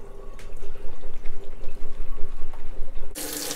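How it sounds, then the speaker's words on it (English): Cold tap water runs steadily, splashing and gurgling over wood ear mushrooms in a sink, then the flow turns to a sudden bright, hissing rush near the end. "I will wash with cold water"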